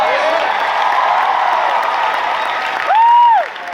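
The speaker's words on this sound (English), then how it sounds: "Let's give her a big applause." Steady applause from a crowd fills the space, with a bright whistle-like tone rising and falling near the end.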